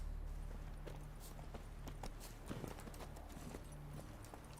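Roach the horse walking in The Witcher 3, a quiet, even clip-clop of hooves in a slow gait over a low ambient hum.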